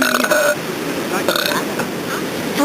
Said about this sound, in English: Oh, I'm burping good right now.